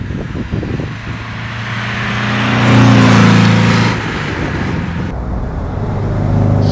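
Engine of a 1963 Porsche 356 C Cabriolet while driving, a steady mid-pitched rumble that swells as it accelerates and then settles as the car cruises, loud and close with road and wind noise.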